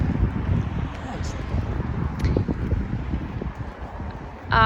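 Steady, broad wind rush buffeting outdoors in downtown Winnipeg, low and continuous with gusty fluctuations throughout, no voices.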